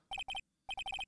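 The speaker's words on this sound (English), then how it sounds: "All of a sudden, the phone began to ring." A cell phone rings in the video game Ace Attorney: Justice For All, sounding as a clean electronic chime of rapid paired beeps in bursts, a short pause and then another run, clear and unaccompanied by talk.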